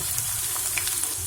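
Garlic and ginger paste fry in hot oil while veg manchurian is being made, a close, hissing sizzle with small pops and crackles across a brief moment, with no voices.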